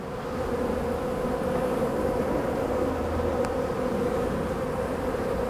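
Honeybees droning steadily around an opened hive colony that is short on bees, a continuous, close buzzing swarm sound with no talk over it.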